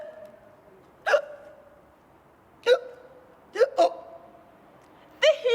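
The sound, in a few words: storyteller imitating hiccups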